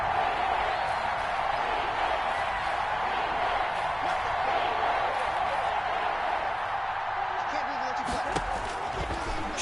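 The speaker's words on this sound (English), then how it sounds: "The crowd getting into it as we come up on a big 3rd down." Stadium crowd in the Madden 21 football video game roars steadily through a tense third-down play, a dense continuous wash of cheering with rising excitement near the end, mixed under an announcer's voice.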